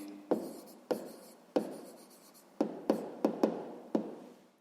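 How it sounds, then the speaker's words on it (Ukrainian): A pen or chalk writes out a math answer with sharp, close taps and short scratchy strokes in an irregular series of about eight marks, with no talk. "записуємо тоді відповідь"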